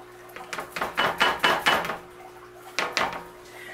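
Drained vegetables for green tomato relish tipped into a cooking pot, a quick run of soft knocks and rustling clatters, then a brief pause and two or three more, close and fairly quiet.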